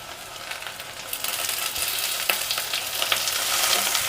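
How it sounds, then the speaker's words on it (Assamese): Tomatoes sizzle and hiss as they are stirred into fried onions for a mutton curry, a steady close frying crackle with occasional spoon scrapes, growing slightly louder toward the end, no talking. "বিলাহী দি লাহে লাহে ধুনীয়াকৈ এনেকৈ লৰাই দিছোঁ"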